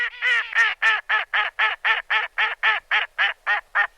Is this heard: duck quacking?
yes